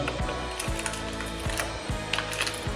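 A hand ratchet turns out screen bolts on a Kove 450 motorcycle while a rally tower is being fitted, giving steady close clicking with a few sharper strokes at regular intervals.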